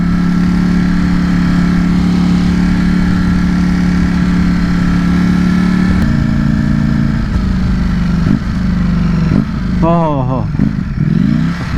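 A Ducati Streetfighter V4S V4 motorcycle engine runs loud and close, holding a steady drone before a series of sharp blips and rev-matched downshifts near the end, with a rider's voice briefly over it.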